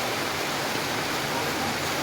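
Steady rain pouring at an outdoor market, a dense uniform hiss of falling water filling the whole moment with no breaks.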